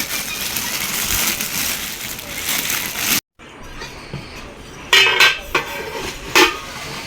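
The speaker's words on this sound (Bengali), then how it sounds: "এখানে যেটা কিনেছি এটা একটা পাতিল।" A metal cooking pot is handled and set down, giving loud clanks and scraping rattles in short bursts with a brief silent gap in between and no talking.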